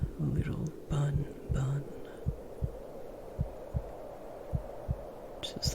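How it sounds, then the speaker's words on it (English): Heartbeat heard with a head pressed against a chest, slow regular low thumps repeating about once a second, close and muffled, after a few soft murmured words at the start. "Just listen to my heartbeat."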